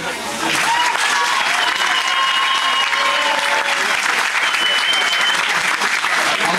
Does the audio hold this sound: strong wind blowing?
no